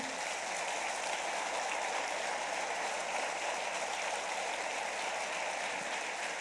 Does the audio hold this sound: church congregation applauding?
yes